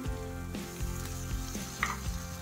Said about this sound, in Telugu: ఉల్లిపాయ పేస్ట్ నలిగిపోయింది కదా, వేగిపోయింది కదా.